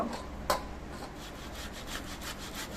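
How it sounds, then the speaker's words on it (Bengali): Peeled boiled potato rubbed against a hand grater, giving soft, repeated rasping strokes at close range, quiet and steady with one sharper scrape early on. "এবার আলুটা আমি একটা ঘষনি নিয়েছি এই ঘষনি দিয়ে ঘষে নেব"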